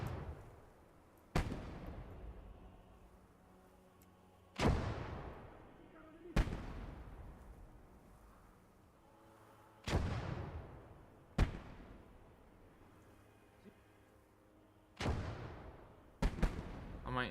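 French rocket launchers firing in the WWII video game Gates of Hell, Italian campaign: about seven heavy booming blasts at irregular intervals, each with a long rumbling decay, loud and fairly close, with no talk over them.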